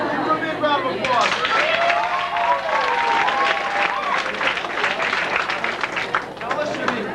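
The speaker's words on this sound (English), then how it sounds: "Give her a big round of applause." Guests at a graduation party break into loud, dense applause and cheering that carries on throughout, with excited voices and chatter mixed into the clapping.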